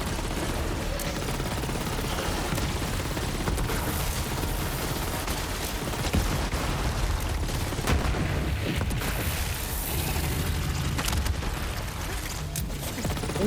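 Grenade explosions and gunfire in the video game Borderlands 3, a dense, continuous barrage of loud booms and rattling shots running throughout with no pause.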